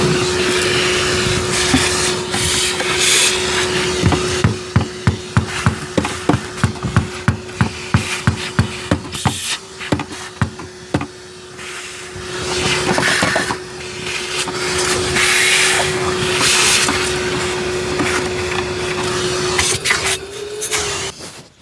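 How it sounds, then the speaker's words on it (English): A shop vacuum runs steadily for the whole stretch, a loud continuous motor hum with a strong tonal whine, while rapid rhythmic clattering and knocking bursts of debris or tapping interrupt it during the first half. "Boy, Billy, that's a pretty good shop vac you got there."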